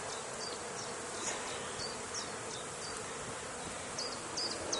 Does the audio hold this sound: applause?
no